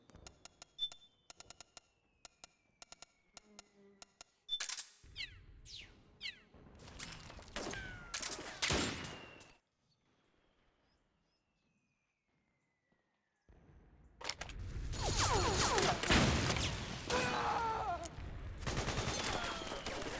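Video-game sniper rifle from Metal Gear Solid 4 fired in rapid automatic bursts, crisp sharp cracks in clusters, then a silent gap before a heavy dense barrage of shots resumes.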